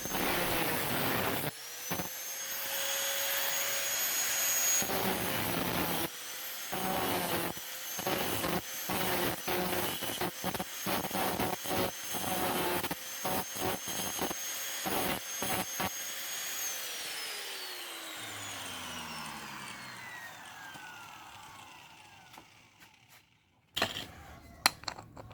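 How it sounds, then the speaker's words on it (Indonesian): An angle grinder cuts and shapes steel for a survival knife, a loud high whine broken by many rapid on-off bursts, then spinning down with a falling pitch, followed by a few sharp clatters. "membentuk lingkaran menggunakan gerenda guys"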